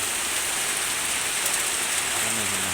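Rain falling outside a monk's quarters just after plants were watered, a steady dense hiss of drops on surfaces, loud and close, unbroken for the whole stretch.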